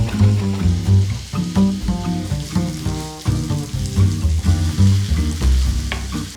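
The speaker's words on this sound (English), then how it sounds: "We'll start by cooking our onion and garlic in a frying pan with some oil." Onion and garlic sizzle and fry in oil in a frying pan, a loud close crackle broken by repeated stirring scrapes and clanks of a utensil against the pan, with no talking.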